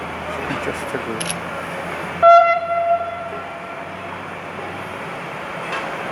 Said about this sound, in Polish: peronie pierwszy, przejeżdżę pociąg bez zatrzymania.